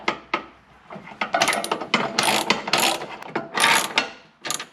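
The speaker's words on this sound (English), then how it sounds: "I'm going to tighten up these bracket bolts first" A ratchet with a 13mm socket tightens running board bracket bolts on a Chevrolet Silverado, with rapid clicking ratchet bursts and metallic rubbing, close and fairly loud, with short pauses between strokes.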